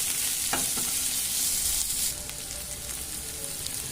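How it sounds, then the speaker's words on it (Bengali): Chopped onions frying in mustard oil with cumin give a steady, close sizzle and crackle that softens slightly partway through, with no talking. "এবার দিয়ে দিচ্ছি পেঁয়াজ কুচো"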